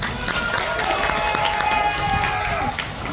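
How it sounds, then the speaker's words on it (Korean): Spectators clapping at a Korean folk bullfighting contest in Boeun, a short burst of crowd applause mixed with outdoor crowd noise and some murmuring voices, fairly loud and close. "천웅이가 이긴다 생각되시는 분들은 박수."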